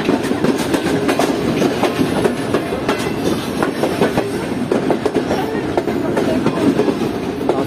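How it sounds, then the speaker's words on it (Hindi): A train pulls off platform 9 onto the main line, its wagons rolling with steady clickety-clack and dense rumble close by, continuous and loud with no voices. "प्लेटफॉर्म 9 को छोड़कर मेन लाइन पर आ रही है ट्रेन"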